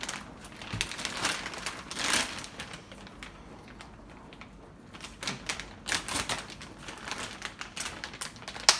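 Crinkly plastic rustling and crackling as scissors cut open a compost bag, with a few sharp snips and crunches coming up close, no voices present.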